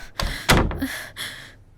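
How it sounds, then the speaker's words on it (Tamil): A door is pushed shut indoors with a couple of close, short thuds and a brief scraping rattle, with no talk. "எதுக்குடி இப்ப கதவு சாத்துற?"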